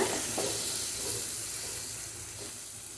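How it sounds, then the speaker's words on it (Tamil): A garam masala mixture frying in a pan for an egg gravy, giving a soft, steady hiss and sizzle with faint stirring sounds. "இப்போ இதை நல்லா ஃப்ரை பண்ணிக்கோங்க"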